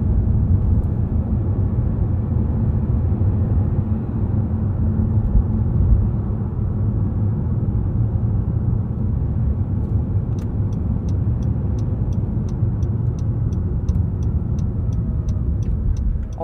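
A 2022 Acura NSX Type S sports car cruises in electric mode with a steady low rumble of road and tire noise and almost no engine sound, with faint high ticking near the end.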